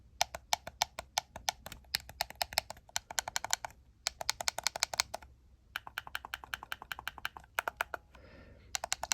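Rapid clicky presses on an 8BitDo Ultimate controller's D-pad and shoulder buttons, close and crisp, coming in quick bursts of many clicks separated by short pauses.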